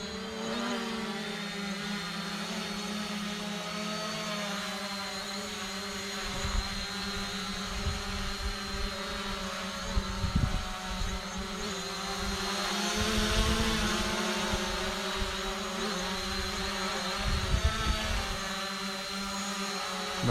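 A Zino Pro Plus drone flies in light wind, a steady high whine from its motors and propellers that holds throughout, with faint low gusty buffeting underneath and no one speaking.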